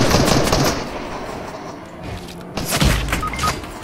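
Bursts of gunfire in the video game Fortnite, loud broadband cracks early on, then a pause and a heavier volley of shots near the end.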